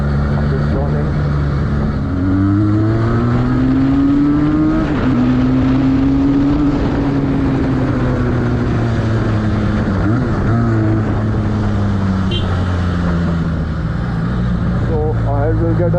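A Benelli 302R motorcycle engine under way on a ride, its steady drone rising and falling in pitch as the rider shifts and changes speed, loud and close throughout with wind noise and talk over it.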